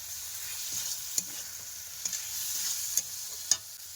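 Small fish such as latha, puti and mourala fry in spice masala, with a steady hiss of sizzling oil and a few sharp clicks of stirring; no talking.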